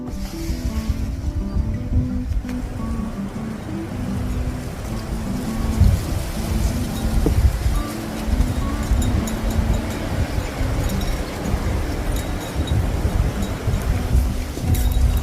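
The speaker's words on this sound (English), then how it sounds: "It's really blowing out there." Strong winter wind blows outside a tiny house heated by a wood stove, a deep, constant rumbling gust that rises and falls slightly and is heard from indoors.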